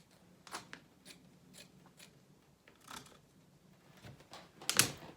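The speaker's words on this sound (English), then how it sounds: "We're just going to cut those off up to the point of the apron string." Scissors cut a cotton T-shirt into strips, producing sparse, quiet, crisp snips and fabric rustles at close range, with one louder snip near the end.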